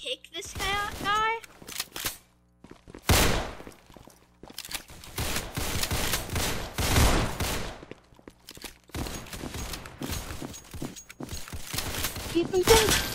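Pistol gunfire in the Counter Blox video game: sharp repeated shots and bursts through the clip, loud and close, with players talking over the firing.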